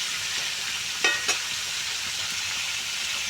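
Fish fries in a pan with an even, moderate hiss of oil throughout, interrupted by two quick utensil clicks early on.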